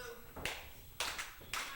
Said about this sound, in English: And Alan Lynch rallying this crowd.